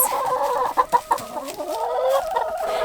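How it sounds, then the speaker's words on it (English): Several hens cluck and warble together nearby, with a few sharp louder clucks breaking through the steady murmuring chatter. "Obligatory check on the chickens."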